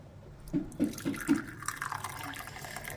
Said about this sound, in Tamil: நான் கப்பில் ஊற்றி காட்டுறேன்